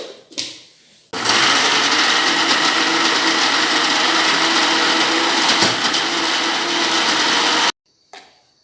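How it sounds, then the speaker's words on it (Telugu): A kitchen mixer grinder whirs loudly and steadily for about six seconds, blending fried mushroom curry ingredients coarsely, then stops abruptly, with faint clatter before and after. "దీన్ని మిక్సీ చేసుకున్నాం."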